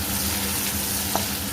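Fish (pabda) frying in a pan with chopped tomatoes being stirred in, a steady close sizzle with a faint scrape of stirring partway through.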